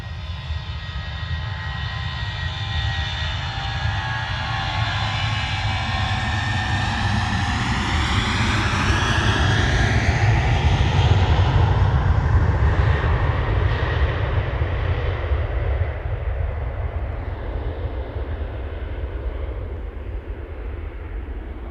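A passenger jet departs Manchester Airport bound for Prague, its engine roar swelling loud and broad, with a sweeping pitch shift as it passes, then fading steadily into the distance.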